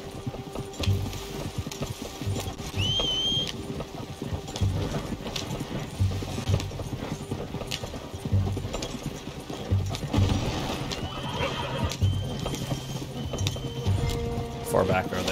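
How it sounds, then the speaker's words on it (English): Rhythmic horse hoofbeats clip-clop steadily beneath a busy Red Dead game soundscape, with speech-like voices and scattered chirps over the top; no clear whinny stands out. "Oh, my horse is way out of range."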